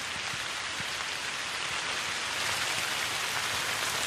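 Rain falls on abandoned, ruined buildings of a once-lively architectural site, a steady dense hiss with scattered close drip taps, even and unbroken throughout.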